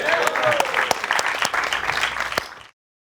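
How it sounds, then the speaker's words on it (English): Studio audience applauding a guest introduced on a talk show, steady dense clapping with scattered sharp claps, loud and continuous before stopping abruptly. "Please give a warm round of applause for Derrick D. Angelettie."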